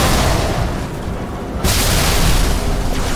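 A grenade blast in Halo 3 fills the mix with a loud, sustained roar and a sharp burst of debris noise partway through, continuing as a dense wash.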